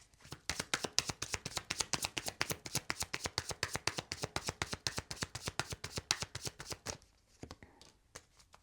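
A deck of tarot cards is riffled and shuffled in a fast, steady run of crisp flutters for about seven seconds, then a few soft taps and slaps as cards are drawn, close and without speech.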